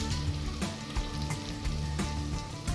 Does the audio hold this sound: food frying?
yes